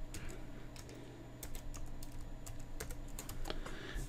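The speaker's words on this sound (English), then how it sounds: "So go ahead and type in the existing password." Rapid clicking keystrokes on a computer keyboard as a password is typed, a steady close run of light taps over a low background hum.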